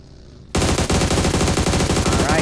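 Loud, rapid automatic fire from an AUG rifle in PUBG Mobile, a dense unbroken burst that starts abruptly after a brief quiet moment and keeps rattling close up.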